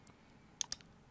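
A few quick computer mouse clicks while uninstalling a program, two sharp clicks close together, faint and near, with no speech.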